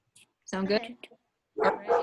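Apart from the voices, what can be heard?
dog barking in the background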